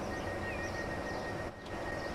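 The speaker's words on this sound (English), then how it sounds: "excited to have the actual train running on the cross city line" A Class 323 train runs on the cross city line in the Transport Fever video game, giving a continuous rumbling rail drone with a faint high whine and a brief dip in level near the end.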